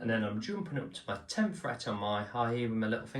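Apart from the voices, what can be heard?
No everyday noises stand out.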